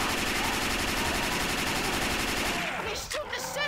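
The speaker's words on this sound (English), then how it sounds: "don't stop shooting" Dense, continuous automatic gunfire from Left 4 Dead 2 rattles loudly without a break for nearly three seconds, then thins out into scattered shots and game noises.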